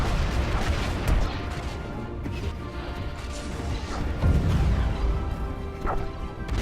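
Space battle in the Stellaris video game as a cruiser explodes: a dense, sustained din of rumbling booms and crashing impacts, with layered weapon fire and no clear pauses.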